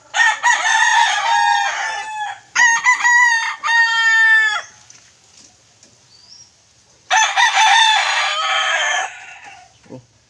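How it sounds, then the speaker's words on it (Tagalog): Several loud wild junglefowl rooster crows in a row, separated by short pauses, one call ending in stuttering clucks, close to the microphone and with no talking. "Himala siya idol, nakatilaok siya ng umaga."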